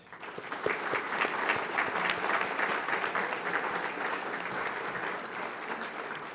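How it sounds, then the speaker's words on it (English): An audience claps steadily throughout, a dense, even wash of applause that stays loud from start to finish. "please give a round of applause for our music today"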